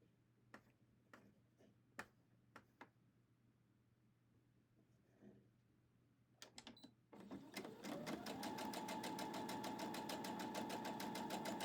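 Sewing machine stitching a scant quarter-inch seam on a scrappy quilt block: a few sharp clicks and handling noises, then the motor starts and runs in a steady, close, loud stitching rhythm for the last four seconds.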